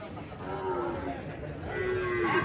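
Sahiwal calves moo at the Chandimura cattle market in Cumilla, with drawn-out lowing calls rising over a busy crowd murmur.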